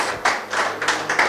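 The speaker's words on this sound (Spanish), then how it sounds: "yo les pido que le den un aplauso al Señor por eso" A church congregation applauding, heard as a few quick, loosely spaced bursts of clapping that rise and fall over a second or so at moderate volume, with no voices.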